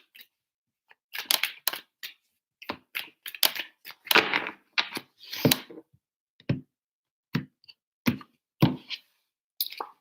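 Tarot cards being shuffled close by. Crisp bursts of riffling and flicking arrive in irregular clusters separated by short silences, with no talking.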